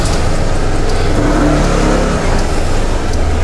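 An FKM Slick 150 motorcycle pulls away, its engine droning loud and close in a steady, rough roar with no voices.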